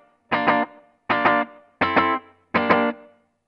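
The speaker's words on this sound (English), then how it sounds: "Which is cool for getting this kind of slapback kind of echo effect" Four short strummed electric guitar chords through a Marshall Haze 40 combo amp, each followed by a quick slapback delay repeat, evenly spaced and played loud with a slightly distorted tone.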